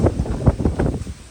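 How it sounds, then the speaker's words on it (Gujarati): Strong wind blowing across a farm field during a storm, loud gusty buffeting against the microphone that rises and falls in uneven surges, close and rough. "તો પવન બહુ બધો આવતો છે"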